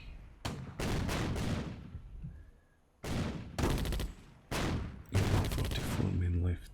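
Bursts of game gunfire and explosions from Attack at Dawn: North Africa, a World War II desert tank strategy game, come in about five sharp, dense volleys separated by brief quiet gaps.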